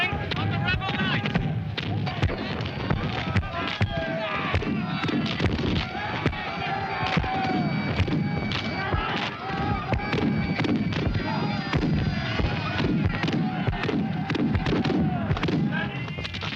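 Cannon and musket fire at a Battle of Culloden reenactment booms and cracks in dense, rolling volleys, loud and continuous with overlapping reports and crowd noise, while a voice speaks throughout.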